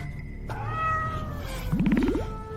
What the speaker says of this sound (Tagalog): Pusa lang